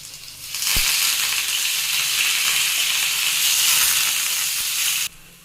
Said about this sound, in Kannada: ನೋಡಿ ಇವಾಗ ಫ್ರೈ ಆಗಿದೆ ಬೆಳ್ಳುಳ್ಳಿ ಹಾಕ್ತಾ ಇದ್ದೀನಿ ಸ್ವಲ್ಪ ಕರಿಬೇವು